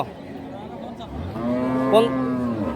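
A cow moos at a large cattle market in southern Bengal, a long, low drawn-out call that rises at the end, fairly close, with faint background murmur.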